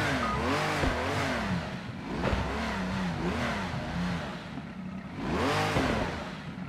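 A historic race car engine in Project Cars 2 revs up and down repeatedly through gear changes, loud and close, with a sharp rise near the end.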